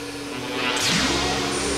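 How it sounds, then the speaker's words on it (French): A cartoon hedgehog-catching ray vacuum cleaner switches on, a rising whir sweeping upward into a steady loud electric hum that holds, with a faint background drone under it. "Mets en route l'aspirateur à rayon attrapé hérisson."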